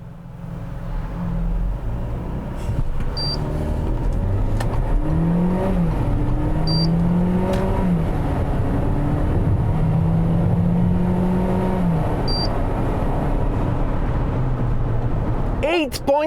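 A Ford Territory, a heavy Chinese-built SUV, accelerates hard during a speed test in Brazil, its engine note rising through several gear changes with rushing road and wind noise. A person talks over it.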